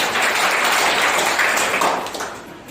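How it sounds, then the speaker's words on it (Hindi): A church congregation claps at an Easter Sunday service, a loud, close burst of applause that fades toward the end. "हालेलुया, एक जोरदार ताली बजाइए।"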